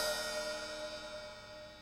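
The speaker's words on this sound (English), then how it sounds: "That means for that eighth note, we open the hi-hat like this." A single open hi-hat wash, bright and sizzling, ringing out and slowly decaying on its own.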